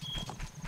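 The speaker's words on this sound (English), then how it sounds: "Stand next to your horse and mount it." Horse hooves clip-clopping in the Zelda game Majora's Mask, a steady, fairly loud run of rhythmic hoof beats over a busy game backdrop, with no talking.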